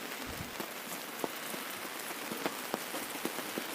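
Rain falls in the woods on a ridge: a steady, fairly faint hiss of rainfall with scattered sharper drops tapping on nearby surfaces throughout.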